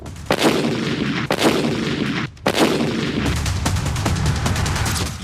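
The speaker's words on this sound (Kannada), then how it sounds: "ಅಲ್ಲೇ ವಿಡಿಯೋ ಮಾಡ್ತಾ ಇದ್ದವರ ಮೇಲೆ ಗುಂಡು ಹಾರಿಸಿದ್ದಾರೆ" Several sharp, loud gunshots crack out at irregular intervals during a daytime gold shop robbery in Vijayapura, followed by a rapid burst of repeated shots.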